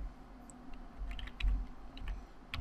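Someone types a command on a computer keyboard, a quick run of soft close key clicks in a short burst, quiet room, no talk.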